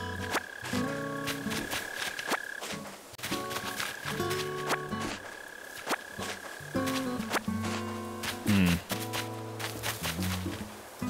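Crickets chirp near trees in Animal Crossing: New Horizons, repeated tonal trilling bursts in a steady looping rhythm over a soft game music bed, with no talking.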